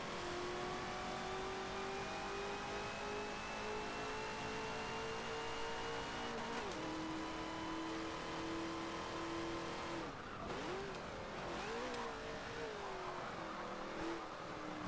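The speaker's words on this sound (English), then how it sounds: "The only thing good about this car is that it sounds okay." Barrett-Jackson Cuda engine in the Forza 7 racing game, a steady droning hum held at constant pitch with a few brief shifts and dips midway, moderately quiet and continuous.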